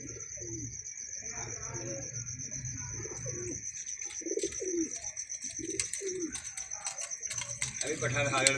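Pigeons kept for sale coo repeatedly in soft low rolling calls, with occasional chirps from the young birds and a steady high whine in the background.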